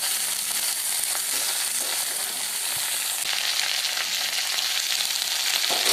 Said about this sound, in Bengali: সমস্ত কিছু মিশিয়ে নিয়ে হাই ফ্লেমে 2 থেকে 3 মিনিট একটু ভেজে